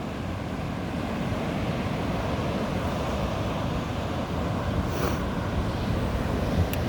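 Ocean surf rolls steadily onto a foggy North Myrtle Beach shore at high tide, a continuous broad wash of breaking waves with some wind noise on the microphone, no speech.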